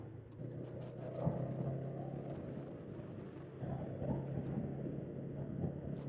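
Honda CMX 500 Rebel motorcycle engine and muffler revving higher during a test ride, a steady low droning rumble with slight swells, heard continuously without talk.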